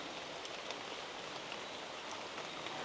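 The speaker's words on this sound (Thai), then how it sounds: "มีน้ำฝน โปรยปลายอยู่ตลอดเวลานะคะ" Light drizzling rain falls steadily on the lush green island forest of Kham Chanot in Udon Thani, Thailand, as a soft, even hiss with faint scattered drop ticks and no voices.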